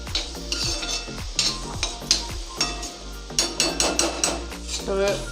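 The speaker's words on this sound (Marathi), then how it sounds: "व्यवस्थित आपल्याला हलवत राहायचं आहे।" Prawn masala with softened tomato being stirred in a pan over a low gas flame, with repeated spatula scrapes and metallic clinks in an uneven rhythm against a faint background sizzle.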